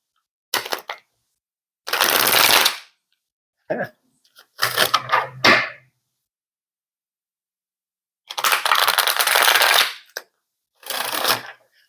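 Oracle cards are shuffled and drawn in several separate bursts of crisp riffling and slapping, close and fairly loud, with silent gaps between them.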